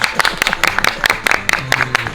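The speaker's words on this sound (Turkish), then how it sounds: "Alkış! Alkışlar mısınız lütfen?" Clapping on a film set, a burst of quick, uneven claps from a small group close by, loud and brief.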